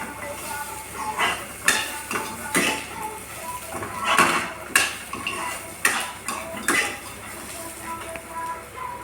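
Onion, grated coconut and melon seeds are dry-roasted in a pan over medium heat, with a spoon scraping and clinking against the metal in irregular strokes and a soft sizzle underneath.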